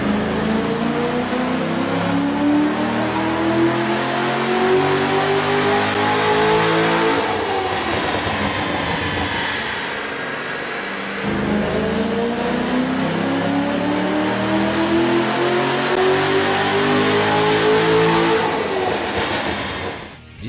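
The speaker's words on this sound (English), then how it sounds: "we ran the vehicle on the dyno to test the sound comparison versus the stock intake" A Chevrolet Corvette Z06 with a 7.0L V8 and a K&N air intake revs hard on a dyno, two long, loud rising engine pulls with a brief drop in between, no talking.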